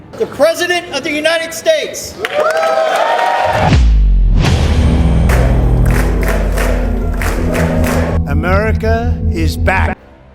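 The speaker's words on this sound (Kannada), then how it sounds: "ಸರ್ಕಾರದ ಸಾಧನೆಗಳಿಗೆ ಚಪ್ಪಾಳೆಯ ಮಳೆ" Applause in the US Congress during a Trump speech: a loud, sustained roar of clapping and cheering from a large chamber crowd that follows a burst of speech and cuts off abruptly.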